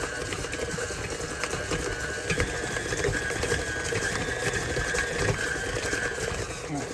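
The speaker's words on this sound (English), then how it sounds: "So mix this together and let that stir up and break up all those chunks of orange slices." An electric mixer stirs sticky cookie dough with chunks of orange slice candy, producing a steady motor whir with a churning, rattling texture that runs without a break throughout.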